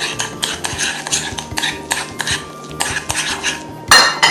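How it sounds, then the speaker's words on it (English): Egg yolk is mixed with mayonnaise in a bowl for French devilled eggs, with a utensil scraping and clinking against the bowl in brisk, continuous strokes, loud and close, with no one speaking. "I'm mixing the egg with the mayonnaise"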